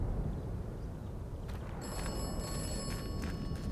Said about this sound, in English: Let's go ahead and answer this phone.